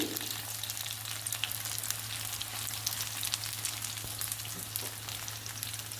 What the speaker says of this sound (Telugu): అల్లం వెల్లుల్లి పేస్టు వంకాయలు బాగా ఫ్రై అవ్వాలండి ఇలా ఫ్రై అవ్వాలి వంకాయ